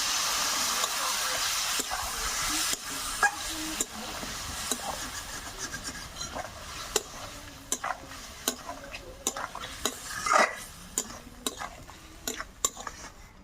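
Small potatoes stirred in a pan with turmeric, salt and water for aloo dum, a continuous close hiss and sizzle with repeated sharp scrapes and taps of a spatula, gradually getting more rhythmic and prominent.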